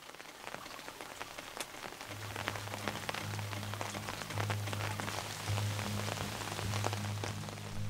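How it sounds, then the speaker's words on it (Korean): Spring rain falls steadily in a mountain forest, a continuous close patter of drops on surfaces, joined partway through by a low droning hum. "촉촉한 봄비가 내리는 오후."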